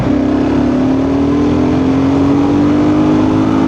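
A BSA Scrambler 650 motorcycle engine holds a steady, loud drone as the throttle is held open, pitch rising slightly, close by with no talking.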